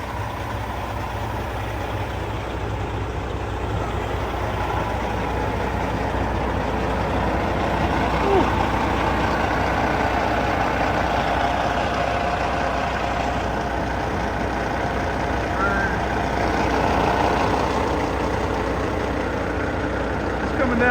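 Freightliner Classic truck with its diesel engine idling outdoors in snow, a steady low rumble that holds evenly from start to end with a broad hiss of wind over it, no talking.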